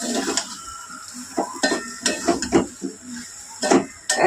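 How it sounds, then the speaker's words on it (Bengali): Boiled soybeans are being stirred with spices in a pan for an egg and soybean curry, giving irregular scraping and clinking strokes of a utensil against the pan over a soft sizzle, close and fairly loud, with no talking. "এবার সব মশলার সঙ্গে মিশিয়ে নেবো আমরা।"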